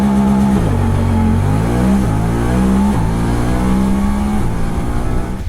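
A Honda Talon 1000R-4 side-by-side engine held in launch mode with the throttle floored, a loud, steady rev that wavers and bounces against the limiter close up, with no talking.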